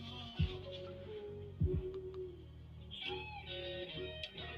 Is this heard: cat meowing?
yes